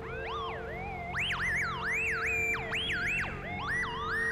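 A strange horn on the Space Docker vehicle in GTA V, sounding as a loud, close warbling electronic wail that sweeps up and down in repeated siren-like swoops over a steady background hum.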